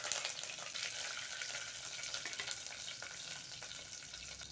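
Curry leaves and slit green chillies sizzle and crackle softly in a pan of hot oil, with a spoon scraping as they are stirred, quiet and close.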